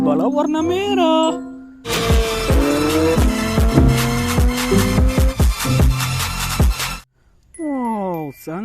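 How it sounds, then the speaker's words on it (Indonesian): A red toy race car gives off loud electronic engine revving and screeching tire effects up close, with rhythmic repeated tones and a rising sweep at the end. "Keluarlah mobil balap warna merah."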